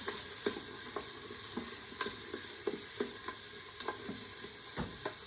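Onions frying in a preheated pan, a steady soft sizzle broken by regular scrapes and clacks of stirring about once a second, close and with no voices.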